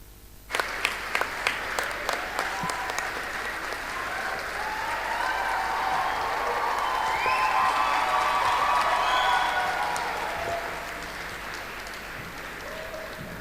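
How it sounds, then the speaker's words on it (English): Audience at a university cultural programme applauding performers after a Garba song, a few early claps swelling into sustained, full crowd clapping with some cheering, then easing slightly near the end. "Let's give a big round of applause to all the performers one more time"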